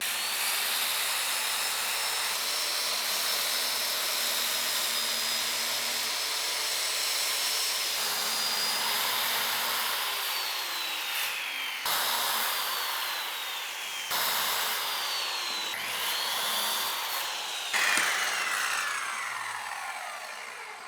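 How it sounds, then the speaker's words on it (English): Circular saw cutting through plywood on a crosscut jig, a steady whining rip that runs for about twenty seconds with several changes in pitch as the blade is pushed through the cut, close and loud. "start the saw, and then gently lower it down until it cuts into the plywood, and then go ahead and push it through the cut."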